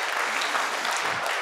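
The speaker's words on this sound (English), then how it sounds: "Come on, somebody give God a hand clap." A church congregation claps for God during a sermon, a steady dense wash of many hands applauding together, close and continuous throughout.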